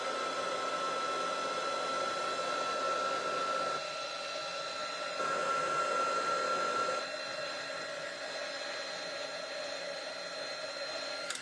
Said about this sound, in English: Probably put the heat gun on it again and see if that helps.